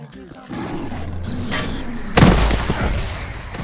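A grenade blast in the STALKER game erupts as one sudden loud boom with a broad rumbling tail, preceded by game noise and a brief crack, with a voice talking faintly in the background.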